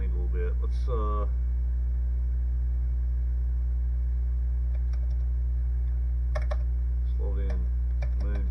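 Sticking keys on a Commodore 64 keyboard are pressed hard, giving scattered clusters of clicks and taps over a steady loud mains hum, with brief voice-like sounds early on.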